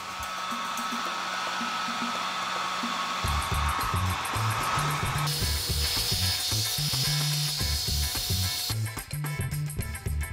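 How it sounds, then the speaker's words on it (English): Hot air dryer blowing at a face, a loud, steady whooshing motor roar that shifts in pitch and intensity as settings change, running throughout with a rattling mechanical undertone. "Blowing a hot air dryer at your face for now 15 minutes or so kind of gives you chapped lips"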